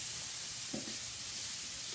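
Salmon, peppers and onions sizzle steadily in a hot pan at a spring food festival, a dense, even frying hiss with a brief faint clunk partway through.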